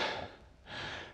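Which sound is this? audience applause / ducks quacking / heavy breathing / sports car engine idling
heavy breathing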